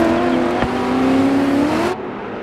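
A rally car in the DiRT 4 game roars loudly and steadily, its engine note holding then dipping slightly before cutting off abruptly near the end.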